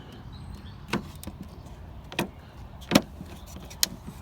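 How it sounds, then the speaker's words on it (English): A few sharp plastic clicks as a front light guard locks onto a Land Rover Freelander 2, spaced about a second apart, close by, over a quiet background hum with no voices. "should hear there, a click. Okay, that's locked in now."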